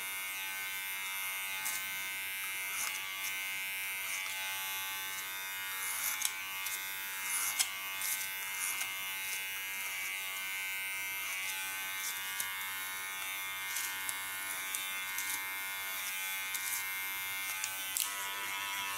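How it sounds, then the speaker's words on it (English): Electric hair clippers buzz steadily through a haircut, a comb held against the head as a guard, with a continuous close-up whir and small irregular clicks and bumps as the blade moves, near the end shifting in tone. "Using my comb again as a clipper protection blade."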